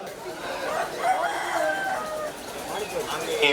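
A rooster crows in short bursts at a poultry auction, heard amid an auctioneer's rapid calling of bids.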